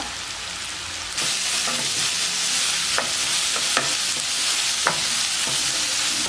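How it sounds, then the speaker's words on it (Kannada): Mashed potatoes stirred with salt and turmeric in a sizzling pan, a steady frying hiss with several soft scraping knocks of the spoon against the pan, no talking. "ಇದು ಆಲೂಗಡ್ಡೆನ ಸ್ಮ್ಯಾಶ್ ಮಾಡಿ ಇಟ್ಕೊಳ್ಳೋಣ"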